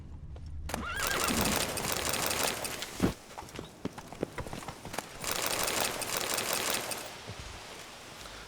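A horse in The Witcher 3 lets out a loud, close whinny. Hooves clip-clop beneath it and a second whinny comes later over the continuing hoofbeats and game ambience.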